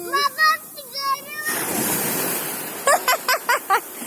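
Water waves rush in with a broad, roaring whoosh at the shoreline, preceded and followed by excited children's voices shouting close to the microphone.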